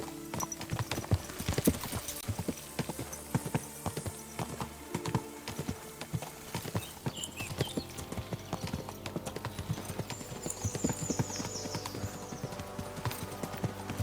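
Horses' hooves clip-clop steadily along a quiet road in the video game Kingdom Come: Deliverance 2, an even, close rhythm of hoofbeats continuing alongside soft ambient sound.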